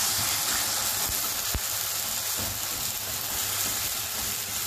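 Tomato puree for creamy egg curry cooks in a pan, giving a steady, close, broadband sizzling hiss that runs unbroken throughout, with a faint tap or two.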